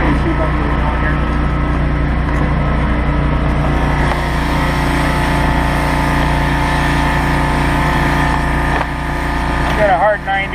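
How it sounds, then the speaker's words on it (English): A pressure washer motor runs steadily the whole time, a constant mechanical drone with a tonal hum, ending with a brief shift near the end, during RV black tank cleaning. "That's not too loud, the motor."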